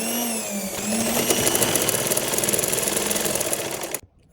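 A sewing machine stitches the front part of a blouse, a fast, steady mechanical whir and clatter running close and continuous before stopping abruptly.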